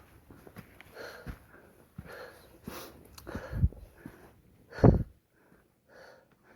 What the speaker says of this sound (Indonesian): ngos-ngosan bro.